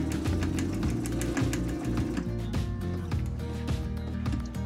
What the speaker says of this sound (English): Again, keep the needle down and turn the house shape and keep sewing.